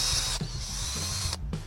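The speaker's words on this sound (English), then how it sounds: "drill a hole with the bearing in a secure spot" A drill bores a hole through a bearing-holding part for a Chevy 572 big-block engine build, a steady mechanical whir that runs continuously, breaks off briefly, then resumes.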